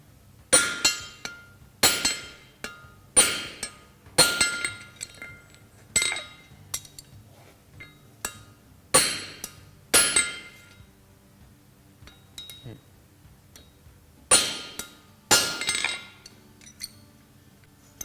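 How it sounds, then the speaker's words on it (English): A sledgehammer striking forged zirconium rings out in a series of sharp, bright metallic clanks, about a dozen irregularly spaced blows, each with a short ringing decay. "invite Martin in with the sledgehammer here to start cleaning this guy up"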